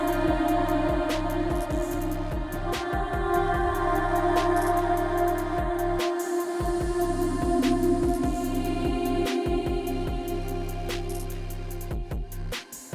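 Sampled vocal hook in a dark trap beat built in FL Studio, washed in Fruity Convolver reverb and Portal effects: a loud, sustained, reverberant musical bed with steady tonal layers and rhythmic hits, heard alone for about thirteen seconds.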